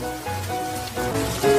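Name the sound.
rain falling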